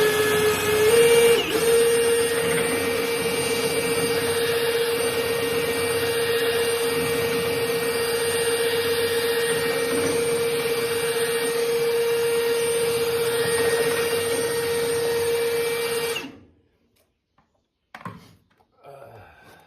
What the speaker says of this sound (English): You've all probably used a drill